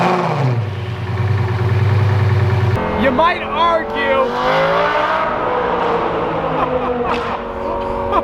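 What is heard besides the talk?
Lamborghini Gallardo cold start and revving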